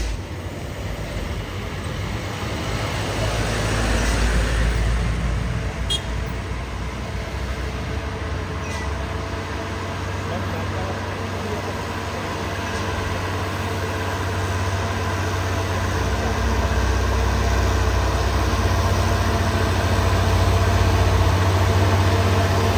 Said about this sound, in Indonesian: 2 dump truck Buso Oren bermuatan material